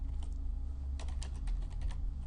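A computer keyboard clatters with a quick burst of close keystrokes, then a steady run of key taps over a low background hum, with no voice over it.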